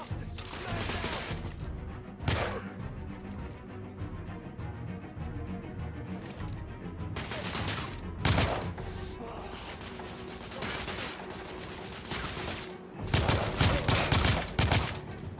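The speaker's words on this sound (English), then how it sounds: "I'm under heavy fire!" Heavy gunfire in the video game The Order: 1886, with loud volleys of rapid shots and crashes bursting repeatedly over a constant battle din, sharpest near the start, middle and end.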